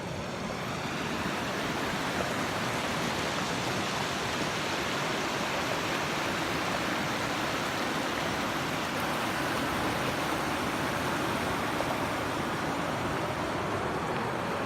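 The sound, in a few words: river flowing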